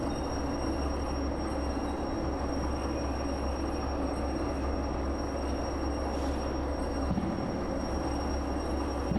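Freight train in Derail Valley under hard braking, a steady loud rumble of rolling wagons with thin high brake squeal running throughout.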